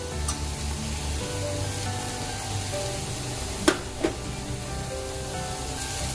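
Sliced cremini mushrooms sautéing in a hot pan, a steady close sizzle and hiss with a couple of sharp clacks from a utensil partway through.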